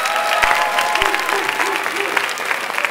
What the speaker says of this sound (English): one more round of applause for our wonderful student speakers